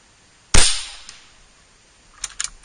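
Single sharp crack of an Air Venturi Avenger .25 air rifle shot, loud and close, with a decaying tail; a few faint clicks follow about two seconds later.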